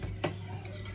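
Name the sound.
whisking filling in a pan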